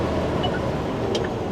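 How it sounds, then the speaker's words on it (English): Exhaust brake on a Mercedes-Benz Unimog U435 with Uni-Touch gearbox holds a loud, steady roar of engine and road noise, with no clear change in pitch. "Very, very good exhaust brake."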